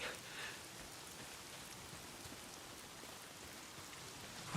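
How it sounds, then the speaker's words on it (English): Steady, fairly quiet rain in the video game Days Gone patters continuously with a soft hiss, no other sounds standing out. "Oh, damn rain."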